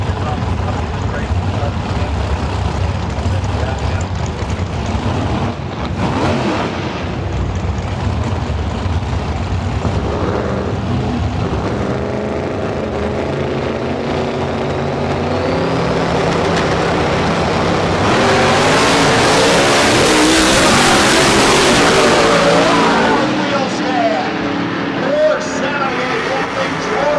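A Chevrolet Camaro race car at the SCSN 15 races roars steadily and builds to a loud peak as it passes close by before fading. A commentator talks over much of the engine noise.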